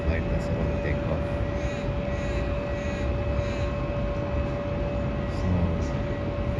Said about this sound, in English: Looks like there is another flight that's about to take off.